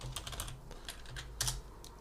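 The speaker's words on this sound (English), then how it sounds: "So press tab and type constant." A few quick, close keystrokes tap on a computer keyboard while entering a node name in Nuke compositing software, the clicks irregular and crisp over a low background hum.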